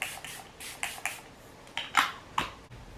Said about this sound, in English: Then I'm gonna go ahead and add some setting spray.